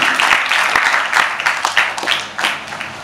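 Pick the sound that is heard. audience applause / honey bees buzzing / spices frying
audience applause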